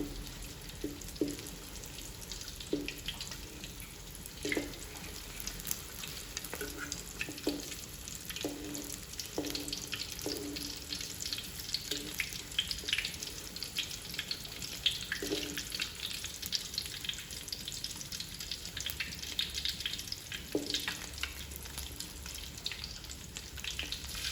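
An omelette frying in a pan over low heat gives a continuous crackling sizzle with scattered sharp pops and spits, moderately close and steady for the whole stretch.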